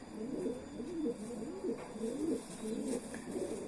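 A pigeon coos nearby in soft, repeated low rolling calls, several phrases in a row with a faint chirp near the end, no talking.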